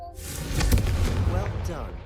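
The Confringo fire spell from Hogwarts Legacy is cast, a loud rumbling burst of fiery blast that swells and rolls on for about two seconds with a brief tonal flourish.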